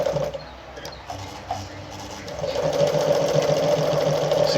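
A Pfaff 130-115 sewing machine runs with a steady mechanical whir and rapid stitching rhythm, starting softly after brief pauses and then sewing continuously and louder, with a person talking over parts of it.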